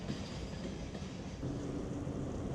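Freight train hauling coal out of Vorkuta in the Arctic north, a steady rumbling roll of wagons with faint clatter, continuous and moderately distant, no voices.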